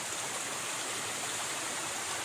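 Water of a stream flowing steadily on a hot day, a constant broadband rush with no breaks, fairly quiet and heard alone without talk.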